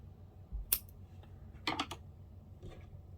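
Scissors snip a crochet yarn tail on a small clown toy, a few quick, quiet close blade clicks in two short groups, with a faint tap afterward in a hushed room.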